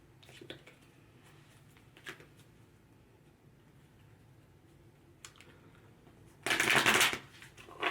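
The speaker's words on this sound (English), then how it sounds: "Just going to shuffle these here." A burst of tarot cards being shuffled, a quick riffling flutter lasting about a second near the end, after quiet room tone with a few soft taps.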